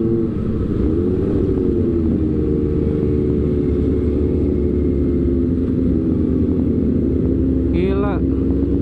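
A BMW S1000 1000cc motorcycle ridden by a woman, its engine droning steadily and loudly throughout with slight pitch shifts, while a voice talks over the ride.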